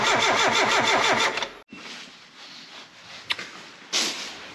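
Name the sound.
Mazda Miata engine starting after new fuel pump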